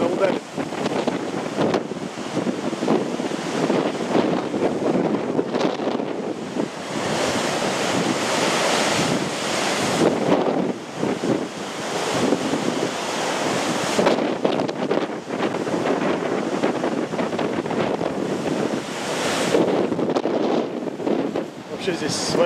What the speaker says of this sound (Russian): Сейчас я чувствую, волна сюда ударит.